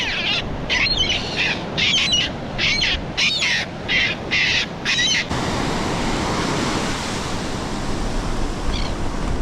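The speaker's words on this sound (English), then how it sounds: "seagulls just flew into my line" Seagulls squawk in a rapid series of harsh calls over steady crashing surf, then the calls stop and only the waves continue.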